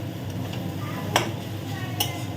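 Potatoes and onions frying in a pan, a steady low sizzle with two sharp clinks of a utensil against the pan partway through.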